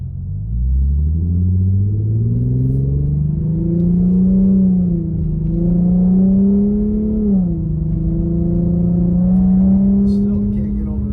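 An Infiniti Q50 accelerates hard, its engine note climbing in pitch through the gears with a brief dip at a shift, heard from inside as a loud continuous drone that dominates the cabin.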